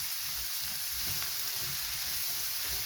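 Garlic flakes and tender stem broccoli sizzle steadily in a hot pan while being mixed, a continuous close hiss with soft stirring scrapes and no talk.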